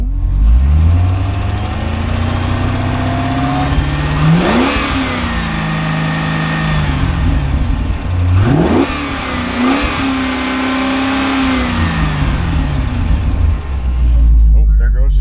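A 2008 Chevrolet Corvette C6 with an LS3 engine idles with a deep, rough rumble, then revs up hard several times and drops back to idle, loud and close, at an auto wrecking yard.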